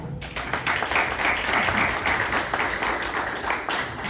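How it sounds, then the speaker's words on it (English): Applause from a film festival panel audience for a departing panelist: a steady run of many hands clapping, moderately loud and sustained, with no talk over it. "let's give Chris a round of applause"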